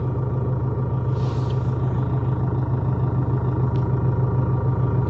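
A Mahindra Scorpio engine idles in neutral with heavy vibration, giving a constant, close, rhythmic low rumble with a slight clatter throughout.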